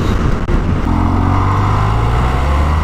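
Kawasaki H2 SX motorcycle engine pulling hard and loud, accelerating with quick quickshifter upshifts that cut the drone briefly before it climbs again, steady and close throughout.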